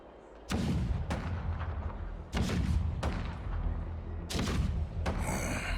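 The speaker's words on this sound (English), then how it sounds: "The rumble of the cannons." Heavy cannon blasts from Honkai: Star Rail boom in a loose series, about six deep thuds with rolling rumbles between them, loud and without any voices.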